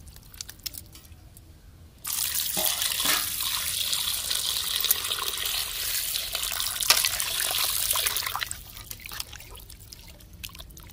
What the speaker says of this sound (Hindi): चलिए पानी से हम मछली के साफ कर धो लेते हैं।